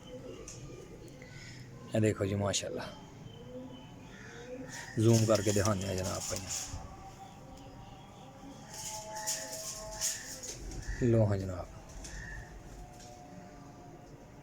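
Soft cooing of golden pigeons in a loft, coming in a few short, low rounded bursts amid faint background noise, while someone talks over and between the calls.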